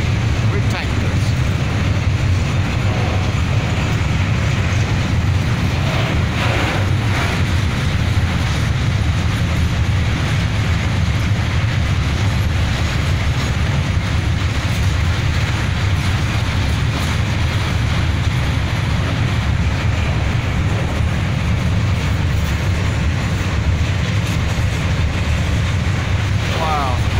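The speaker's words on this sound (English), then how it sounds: "Beautiful locomotive. And that's a diesel." A diesel locomotive hauls a tanker train across a bridge in Wrocław, Poland, a loud continuous rumble with rhythmic wheel clatter and deep low-end drone throughout, under occasional faint wind noise.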